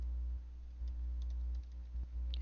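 Computer keyboard typing in short bursts of clicking keystrokes over a steady low hum, close and fairly quiet, with no voices.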